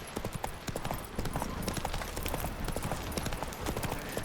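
Steady clip-clop of the horse's hooves in The Witcher 3, a brisk continuous rhythm close by, with faint background game sound.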